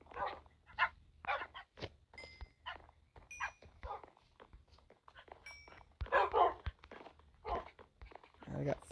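Dogs barking in Minecraft Bedrock, a crowd of about forty tamed dogs giving scattered short barks and yips at varying distances, with soft footsteps and a faint tonal ping between them.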